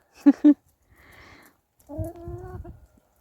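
Grown chickens clucking in a backyard coop: two short, loud clucks up close, a brief rustle, then a longer warbling call, with no talk.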